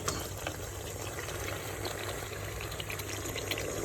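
Coconut milk bubbles and simmers in a pot, a steady soft fizzing with scattered little pops, close and without speech.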